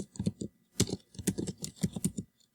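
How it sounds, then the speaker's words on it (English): Typing on a computer keyboard, a quick uneven series of crisp key clicks in short bursts, close and clear with no talking. "And then we're going to type works cited."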